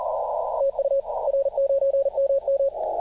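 A Xiegu G90 radio receiver sends a CW Morse signal as a steady, pure beeping tone in a clear dot-dash rhythm, set against a hiss of white noise that fills the gaps, close and continuous.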